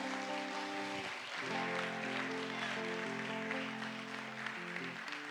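Church congregation applauding during a service, a steady wash of clapping heard alongside sustained organ or keyboard chords that carry through the whole stretch.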